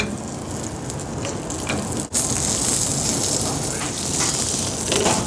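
Loud, steady sizzling and frying fills the clip as lamb browns in hot butter in a pan, with a brief dip midway, close up.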